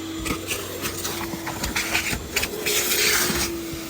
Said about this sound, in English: Vacuum the seat too.